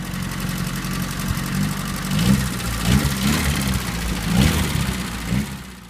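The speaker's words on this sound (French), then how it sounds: "La Dauphine est motorisée par le célèbre moteur Ventoux" A Renault Dauphine's small 845 cc, 30 hp Ventoux engine idles steadily up close, with a low rumbling hum and a few slight revs rising and falling.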